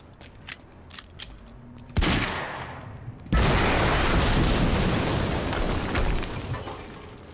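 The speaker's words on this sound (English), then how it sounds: "HQ, we just heard an explosion near the harvesting perimeter" A violent blast and sustained gunfire erupt in the video game Quantum Break. Scattered sharp shots come first, then a sudden loud explosion and a dense, continuous roar of automatic fire and debris lasting several seconds, close and overwhelming, with no speech.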